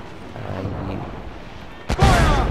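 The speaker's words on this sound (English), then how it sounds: "Cannon ready!" Ship cannons boom in the naval combat of Assassin's Creed IV Black Flag, a heavy low blast arriving near the end after a stretch of quieter rumbling game ambience.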